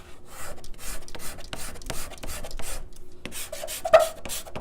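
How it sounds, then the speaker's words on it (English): A card scraper is drawn across wood with its unsharpened edge, making a rhythmic series of dry, raspy rubbing strokes, close and moderately loud, each stroke roughly half a second long, with no voices. "if you're scraping and you're getting just dust, which I might be able to get that just by using the wrong end"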